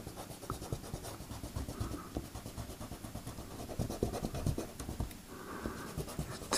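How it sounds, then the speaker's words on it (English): Eraser rubbing and scratching over airbrushed paint on a background, a close run of irregular dry scrubbing strokes at a steady moderate level. "we'll just have a look and see what we can nib out with the eraser"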